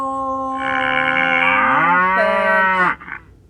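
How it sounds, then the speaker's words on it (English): A brown and white cow in a kids' language-learning app gives one long, close mooing call that rises, holds and then stops abruptly, heard alone. "It's a cow. A brown and white cow. What does that cow say? Moo."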